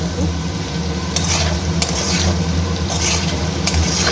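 Ginger dropped into a hot frying pan and stirred, giving a steady, loud sizzle with occasional scraping strokes of the spoon, close up and without talk.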